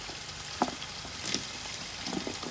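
Whole onions fry in a pan for a Gujarati onion curry, a soft continuous sizzle with a few stirring clacks and scrapes, heard up close and alone.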